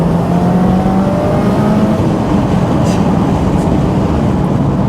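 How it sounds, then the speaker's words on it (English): A Subaru Impreza STi 20th Anniversary's turbocharged engine roars loud and close, its revs holding high and droning steadily with a rough, motorbike-like edge. "It carries on revving, and bearing in mind it's a turbocharged car and it revs."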